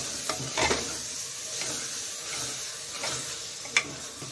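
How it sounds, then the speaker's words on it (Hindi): Ghee being stirred into carrot halwa in a pan, a soft sizzle and hiss with occasional spoon scrapes, close and moderate in level. "इस घी को हम मिक्स कर लेते हैं"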